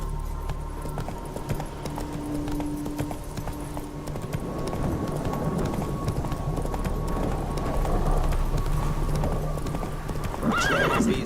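Roach, the horse in The Witcher 3, gallops in a steady, rapid clip-clop of hooves that runs throughout, close and fairly loud, with a neigh near the end.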